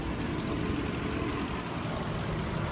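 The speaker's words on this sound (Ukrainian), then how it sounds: "Мотор працює тихо, рівно, не димить, не троїть" A 2006 Volkswagen Passat B6 with a 1.6 MPI petrol engine running on gas idles in a smooth, steady hum, evenly sustained and close without any voices.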